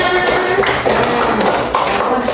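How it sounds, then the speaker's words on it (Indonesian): Children clap their hands in a classroom during a maths lesson, a loud, steady burst of clapping lasting a couple of seconds, close by, with some background voices. "pintar, tepuk tangan."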